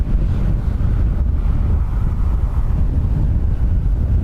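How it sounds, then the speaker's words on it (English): Strong wind gusting at Dublin Airport, around 20 knots, a steady loud roar buffeting the microphone throughout with deep low rumble and no pauses. "It's gusting about 20 knots."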